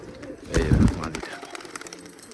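Teddy pigeons cooing in a cage, one loud close throaty coo swelling then fading, followed by softer rustling.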